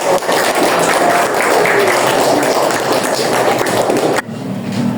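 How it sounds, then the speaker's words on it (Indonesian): A classroom group applauding after a greeting at a project presentation, sustained dense clapping for about four seconds that cuts off abruptly near the end. "Oke, tepuk tangan."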